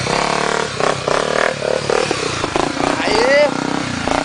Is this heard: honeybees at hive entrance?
no